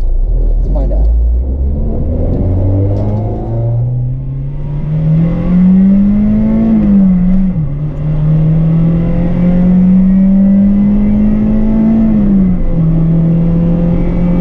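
Acura Integra GSR engine revs up from a low idle rumble into a rising, sustained high-rpm wail, climbing in pitch as VTEC engages, dipping briefly and surging again, loud and close.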